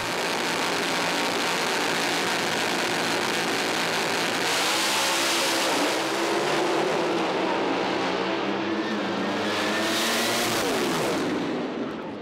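A doorslammer drag racing car revs loud and sustained at the track, engine pitch climbing and falling in several surging blasts with crackling, gunfire-like pops over a constant roar.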